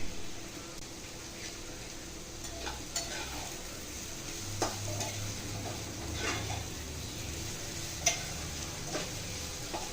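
Okra fries in a pan with a constant soft sizzle, broken by intermittent scraping and clicking taps as a spatula stirs it, close and steady throughout without talk.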